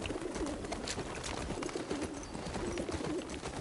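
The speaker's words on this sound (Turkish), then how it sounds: "Kumrular gurulduyor." Turtle doves coo softly in repeated low phrases within the video game The Last of Us Part II, set against a steady dense background ambience.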